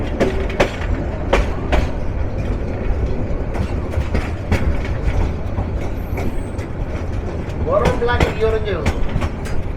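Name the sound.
Kishoreganj Express passenger train running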